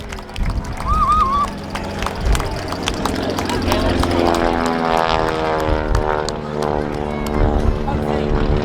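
Propeller aeroplanes with 180 horsepower engines fly at the Blackpool Airshow, a steady droning engine note that rises and falls as they pass, with crowd voices talking over it throughout.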